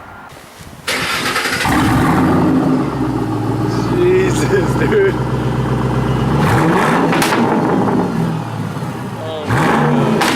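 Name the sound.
2010 Mustang GT 4.6 revving, straight pipe MagnaFlow exhaust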